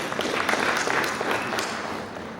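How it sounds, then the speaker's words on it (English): Audience at a conference applauds the volunteers, a moderately loud, dense patter of many hands clapping for a couple of seconds, slowly thinning toward the end. "we want to applaud them as well"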